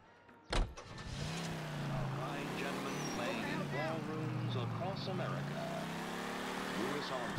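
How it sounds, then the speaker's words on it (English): A car engine in the video game L.A. Noire drones steadily after a sharp thump, its pitch rising and falling with acceleration and gear changes over a continuous low rumble; a person talks over it. "This car's got a decent engine, it seems like."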